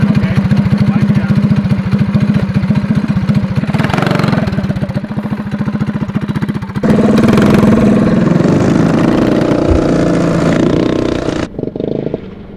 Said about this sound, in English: it's a go-kart with 6 wheels